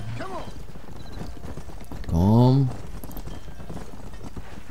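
Horse hooves clip-clop during cattle herding in the Red Dead Redemption video game, a steady rhythmic patter under game ambience, with a brief loud horse whinny midway and a short spoken word.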